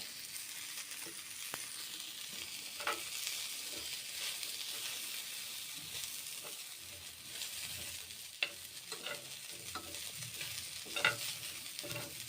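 Oats with peas and chhana cooking in a pan, a soft continuous sizzle and hiss with scattered scrapes and taps of a spoon stirring, fairly quiet and without talk.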